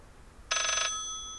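A telephone rings in the horror video game Layers of Fear, one short burst of bright, rapidly trilling electronic bell tone that cuts off abruptly and leaves a fading ring in a quiet room.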